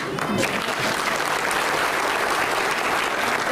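A large audience claps steadily and densely throughout, an unbroken wash of applause at a civic felicitation ceremony honouring Padma Shri actor Ashok Saraf, fairly loud and close, with no voices over it.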